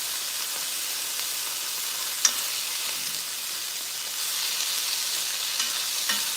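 Food seasoned with soy sauce browns in a very hot pan, giving a steady, close sizzling hiss with light stirring scrapes and one sharp tick partway through. No one speaks.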